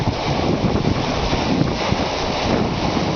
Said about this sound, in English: You can hear the roar of the bow wake in the background.